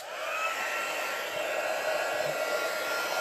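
An embossing heat gun blows a steady, even whoosh of air with a faint motor whine, moderately close and unbroken throughout, with no talking.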